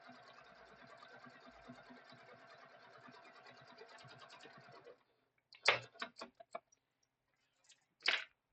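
A sewing machine runs in a fast, steady mechanical chatter for several seconds, then stops, followed by a few sharp clicks and thuds.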